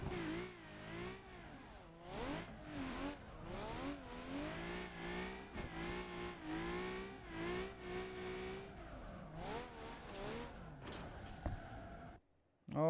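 Drifting car in Assetto Corsa, engine revving up and down in repeated surges with rising and falling pitch, loud and continuous, ending with a brief drop and a final burst.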